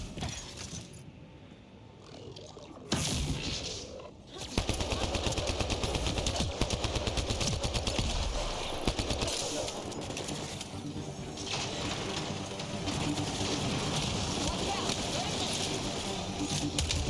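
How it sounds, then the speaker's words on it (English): Mass Effect: Andromeda gunfire as robots are shot, heard as rapid mechanical bursts of weapon fire that run almost continuously after a quieter opening, with people talking over it. "Well, we got to shoot little robots."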